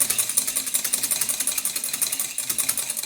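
A single egg white is whisked by hand for blinis with leek whites, a fast, even rattle of the whisk against the bowl, close up and steady throughout with no talk.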